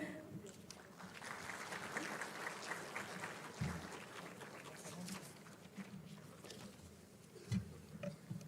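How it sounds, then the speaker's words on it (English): An audience at a green tourism conference in India claps steadily, the applause faint and distant with soft thumps scattered through it. "Huge round of applause."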